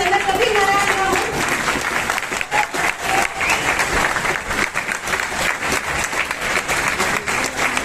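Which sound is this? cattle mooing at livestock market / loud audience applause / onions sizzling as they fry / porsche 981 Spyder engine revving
loud audience applause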